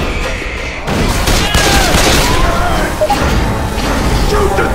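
Dense, loud gunfire rattles almost continuously in the zombie shooter Left 4 Dead 2, mixed with crashes and thuds, while voices call out over the chaos.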